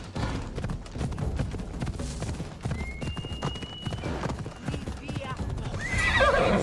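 In the video game Assassin's Creed Odyssey, a horse's hooves clip-clop steadily and a neigh rises near the end, all under continuous talking.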